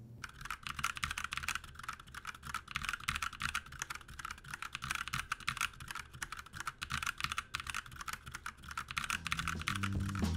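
Steady, fast typing on a DREVO Caliber wireless mechanical keyboard with brown switches and O-rings fitted in the top row, a dense run of close, crisp keystrokes that continues throughout.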